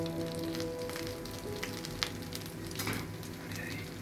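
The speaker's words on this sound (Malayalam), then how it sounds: "നമ്മളുടെ ചിക്കൻ എല്ലാം ഫ്രൈ ആയിരിക്കുകയാണ്." Chicken wings sizzle steadily in a hot pan of oil, a continuous close crackle with a few sharper pops and spits rising above the even hiss throughout.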